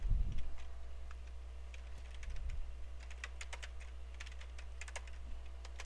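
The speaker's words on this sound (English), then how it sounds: "And I'm going to type it just like that." Fingers type Python code on a computer keyboard in quiet, irregular bursts of light key clicks, faint over a low room hum.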